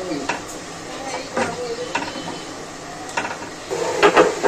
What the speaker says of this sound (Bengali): ঢাকা দিয়ে কিছুক্ষণ এরকমভাবে রেখে দেবো।